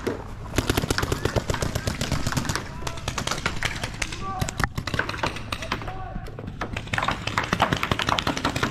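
Rapid bursts of paintball gun shots crack and pop repeatedly throughout a summertime recreational paintball game at a Fayetteville field, dense and close, with players talking over the firing.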